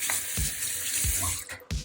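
Water runs from a kitchen tap to wet risen homemade bread dough. The hiss is loud and close and continues steadily, with brief dull knocks and a short break near the end.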